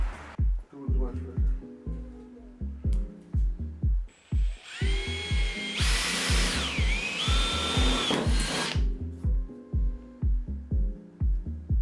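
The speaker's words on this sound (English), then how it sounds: "Get the drill. Let's start drilling." Power drill boring holes through a Nissan S15 Silvia's bodywork for a rear wing, a long high whining burst in the middle, with rhythmic knocking and clunking before and after.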